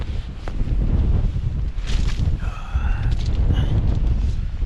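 Strong gusting wind buffets the microphone on an exposed riverbank on the Humber during sea fishing, giving steady loud rumbling noise with rising gusts throughout.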